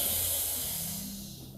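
A forceful breath pushed out during yoga cat pose, a long airy hiss close to the mic that slowly fades over about a second and a half.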